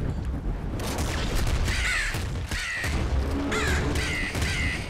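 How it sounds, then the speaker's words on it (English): In the video game Nuclear Throne, a flock of crows caws in repeated harsh bursts, loud and close, over dense game noise with deep booms and gunfire. "That's a lot of birds."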